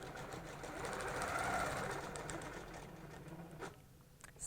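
A sewing machine stitches along a cable ruler pattern, a fast continuous mechanical whir that swells and then eases off before stopping, heard close and alone.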